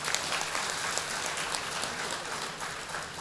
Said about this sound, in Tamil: நல்லா கைதட்டுங்க, பிரமாதம் தான்.